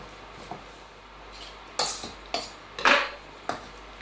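A spoon scrapes and knocks against a pan while oats are stirred into melted butter for flapjacks, several distinct clinks and scrapes spaced irregularly over a quiet background.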